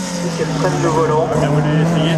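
A race car sweeps past at a slalom event, its engine a steady close drone over about two seconds while a commentator talks over it.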